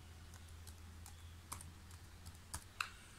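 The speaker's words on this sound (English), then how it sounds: "So just type in ping space and then google.com." Typing the ping command on a computer keyboard: a few faint, scattered key clicks with short pauses between them, close and quiet, with no talking.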